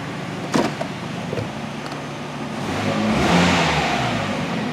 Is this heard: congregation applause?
no